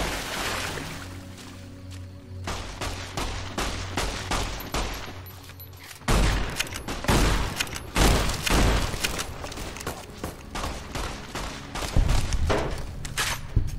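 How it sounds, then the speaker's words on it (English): Lever-action shotgun fired repeatedly in Fallout: New Vegas, loud booming shots in irregular bursts with thuds between, continuing through most of the stretch with no voices. "this lever-action shotgun just isn't cutting it"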